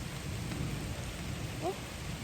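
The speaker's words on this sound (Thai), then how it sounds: "ฝนตกหนักเลย" Heavy rain pours steadily outdoors during a thunderstorm, a dense constant hiss with low rumbling thunder beneath, plus a short tonal chirp near the end.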